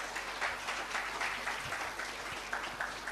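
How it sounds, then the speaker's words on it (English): Audience applause at a DevFest 2022 developer conference in Chennai, a steady dense wash of clapping from a crowd that holds for the full three seconds at moderate volume with no voices over it. "Another round of applause for him,"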